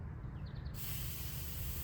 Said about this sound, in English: And then you're going to start spraying.